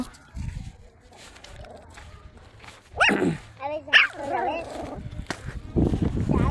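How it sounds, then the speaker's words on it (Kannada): Several small, high yips and barks from young dogs, close by, mixed with people talking nearby. "ನಾಯಿ ಕುನಿ ನೋಡ್ರಿ ಫ್ರೆಂಡ್ಸ್, ನಾಯಿ ಕುನಿ ಇದಾವೆ ರೀ."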